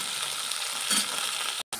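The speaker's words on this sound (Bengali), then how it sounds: "এইখানে করলা ভাজা হচ্ছে" Karela pieces fry gently in a pan, giving a continuous close sizzle with a soft stir or scrape midway and a brief dropout near the end; no one speaks.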